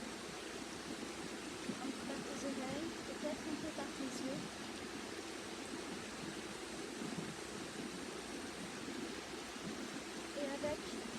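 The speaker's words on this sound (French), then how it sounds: "son de la rivière" A river runs softly in the distance with a faint, even rush of flowing water, while a person speaks gently over it.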